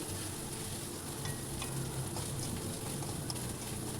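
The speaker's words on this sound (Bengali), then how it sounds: "ফোড়নে ডালটা দিয়ে দেবো।" Lentils tipped into a hot spice tempering in oil for Bengali fried dal, giving a steady close sizzle with scraping stir strokes throughout and no talking.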